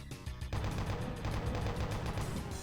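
Rapid chaingunner gunfire in Doom II, a dense stream of rattling shots that runs almost continuously after a brief quieter start, loud and close.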